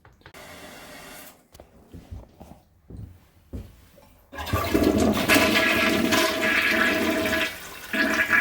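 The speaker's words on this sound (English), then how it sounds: "just a weak flush" A weak flush from a toilet whose siphon jets are likely clogged with mineral deposits: a quiet, sputtering trickle first, then a louder, steady rush of water that drains for several seconds.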